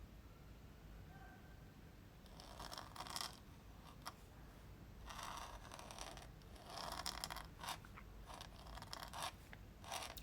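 A brand-new fine calligraphy pen nib scratching on paper while writing a word in 17th-century letter forms, soft close scraping strokes in short bursts separated by pauses.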